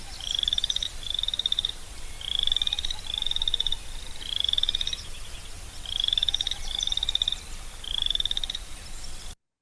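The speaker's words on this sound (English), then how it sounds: "So this is what a call code 1 sounds like for boreal chorus frog." A boreal chorus frog calls alone in a prairie wetland, giving a series of rising, rapid trilled creaks in regular bursts, fairly close and clear over a quiet background, with no other frogs overlapping.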